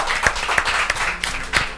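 Applause from a congregation during a Spanish-language church service, heard as a handful of distinct, sharp claps in loose rhythm over a background of light, scattered clapping, fairly close and moderately loud.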